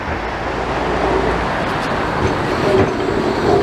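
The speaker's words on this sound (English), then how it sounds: "Trams going past there, one's on its way to Fleetwood, the other one coming towards us" Blackpool trams rumbling past one after another along the seafront promenade, a steady broadband roar of wheels and traffic throughout with no voices.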